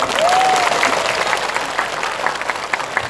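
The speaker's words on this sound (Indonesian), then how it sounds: "Tepuk tangan untuk panitia." Crowd of villagers in Ngawi clapping for the organising committee at a prayer-hall inauguration and religious gathering, a full burst of applause that gradually thins, with a brief whistle-like tone near the start.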